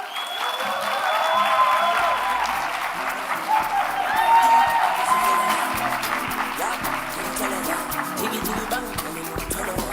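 Audience applause after a session at a youth leadership conference on data-driven innovation, steady clapping from a crowd lasting several seconds, with a voice talking over it.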